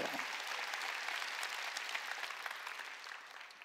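A church congregation claps together in steady, dense applause that holds at an even level throughout and tapers slightly toward the end, with no talking over it.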